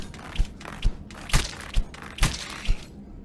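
Six evenly spaced, sharp thudding impacts with a cracking edge land roughly every half second, loud and close, as headshots strike enemies in the VR game In Death: Unchained, with no talk over them.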